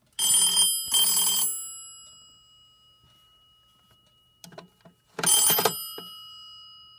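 An office telephone on a Panasonic TA824 hybrid PBX rings out loud and close, two bursts, then a pause broken by a few faint clicks, then a third ring burst.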